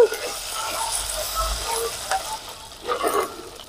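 Dry red chillies, curry leaves and cumin frying in a pan, a soft steady sizzle and crackle with faint scraping and stirring, nearby and moderately quiet.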